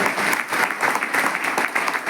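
Thick, sustained clapping from a crowd honouring a guest at a formal ceremony, many overlapping hands producing an even roar that surges gently in waves for a couple of seconds.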